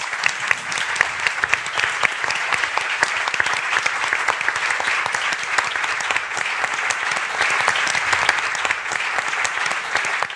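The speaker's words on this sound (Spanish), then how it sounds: "Pues un aplauso." A large audience applauds steadily and loudly at a Spanish cultural event on sculptor Eduardo Chillida, dense clapping sustained for about ten seconds without a pause.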